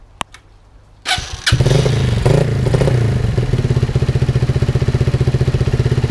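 A Lexmoto XTR 125cc motorbike engine starts with a few clunks and catches, then runs at a fast, steady putter through a raspy exhaust, close by.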